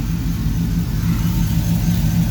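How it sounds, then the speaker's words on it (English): A 2004 Chevy Silverado 1500 pickup idles while warming up after a radiator replacement, a close, steady low rumble with a faint pulsing beat throughout. "right right now we're just letting the truck warm up"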